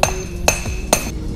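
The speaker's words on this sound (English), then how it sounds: "Oh, found a hammer." A hammer strikes a metal pipe three times at a steady pace during socket weld pipe fitting in the field, each hit a sharp ringing clang.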